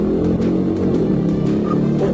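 A car engine roars steadily as the vehicle speeds away during a police chase, loud and continuous with a rough, revving drone.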